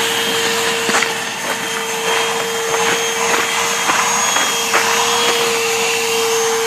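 A vacuum cleaner sucking up snow outdoors, a loud steady motor whine with a constant pitch, with faint scraping and crunching as the nozzle works through the snow.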